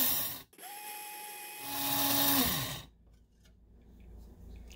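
A coffee grinder whirs as it grinds rice to clean out its chamber, one continuous loud run of about two seconds that starts and winds down, followed by a quieter rattle.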